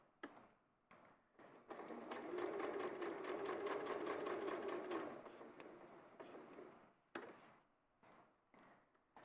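A sewing machine stitching fabric pieces together, a quiet rapid mechanical whirr in a few bursts, the longest lasting about three seconds, separated by brief pauses and small clicks.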